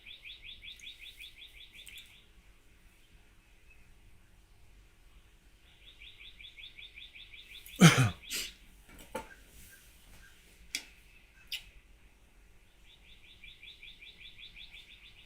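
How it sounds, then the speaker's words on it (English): Birds outdoors, caught faintly by an indoor microphone: repeated rapid high chirping trills in separate bursts, with a few sharp clicks and knocks in the middle. "Can y'all hear the birds in my microphone?"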